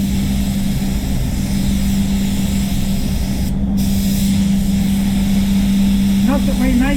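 A spray gun hisses steadily while spray painting a Voodoo Blue Holden VE Commodore, a loud, continuous airy rush with a constant low hum beneath it, uninterrupted for the whole stretch.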